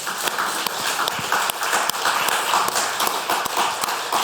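A church congregation claps in a Sunday worship service, a dense, steady roar of many hands filling the room for several seconds with no voices over it.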